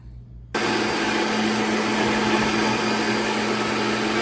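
A blender starts abruptly after a brief quiet moment and runs loud and steady, whirring through a thick mix of avocado, cottage cheese, raspberries and zucchini with a constant motor whine.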